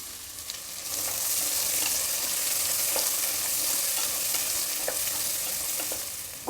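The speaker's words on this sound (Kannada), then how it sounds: "1 ಈರುಳ್ಳಿ ಸಣ್ಣದಾಗಿ ಹಚ್ಚಿಟ್ಕೊಂಡು ಹಾಕ್ತಾಯಿದ್ದೀನಿ." Finely chopped onion fries in a hot pan with a loud, continuous close sizzle, while occasional soft scraping strokes mark it being stirred.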